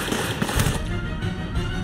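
Gunshots ring out in the Shadowverse story mode, with a rapid run of sharp cracks over a busy, loud background of game music and effects.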